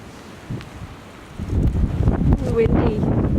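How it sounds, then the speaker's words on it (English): Wind gusts in snowy, icy weather, a soft rush that swells into louder buffeting against the microphone, with a voice briefly heard. "Windy."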